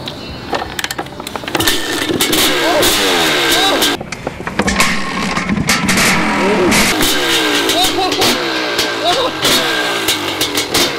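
A motorcycle engine revving up close, loud and rough with repeated rising and falling pitch sweeps and crackling bursts, a brief drop in the middle before revving again, and people talking faintly underneath.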